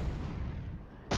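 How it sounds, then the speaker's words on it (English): Artillery fire in the Flashpoint Campaigns war game, a short rumbling boom that fades, then a sharp new blast at the very end, moderately faint overall. "it's all on call artillery"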